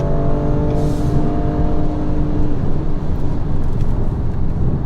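A BMW M4 at full throttle on a racetrack, engine note loud and sustained with steady harmonic drone throughout, close and continuous with no talk.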